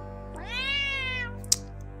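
A cat meows in the video game Tower of Feles, one long rising-and-falling cry followed by a short sharp click, over a steady low game hum.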